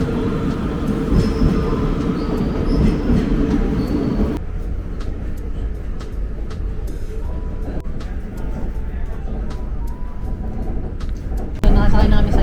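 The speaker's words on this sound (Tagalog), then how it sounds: "So, ito na yung train namin." A direct train from Amsterdam to Gouda via Rotterdam pulls in and runs past, a loud continuous rail rumble with clattering wheels and sharp squeals; the level drops midway and swells again near the end.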